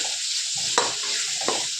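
Tempering sizzling in a frying pan: a steady bright hiss of hot oil, broken by two sharp clicks of stirring against the pan.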